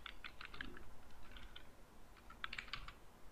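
Keys on a computer keyboard tapped in two quick bursts of typing, close and crisp over a low steady background hum, with no talking.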